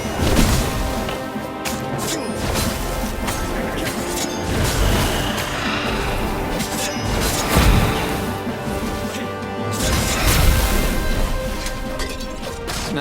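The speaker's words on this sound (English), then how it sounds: "Smashing things was fun." Objects smash and crash repeatedly in the action game Stories: The Path of Destinies, with loud whacks, thuds and breaking debris over continuous game music and effects.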